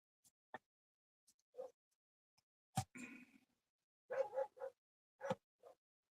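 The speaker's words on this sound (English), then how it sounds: "She's barking like she's got a purpose" A dog barks in short, scattered bursts, fairly faint and somewhat distant, with quiet gaps and a few softer yips between the louder barks.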